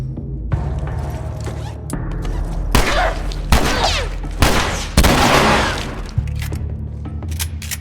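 Rapid shotgun blasts and bursts of gunfire in a first-person shooter game, loud and close, with several sharp booming shots over a steady musical background.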